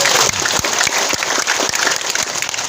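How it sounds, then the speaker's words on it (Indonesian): A village crowd claps steadily and loudly throughout at an outdoor community gathering in Aintasi, Indonesia, the applause dense and close with no talk over it. "tepuk tangan untuk mereka"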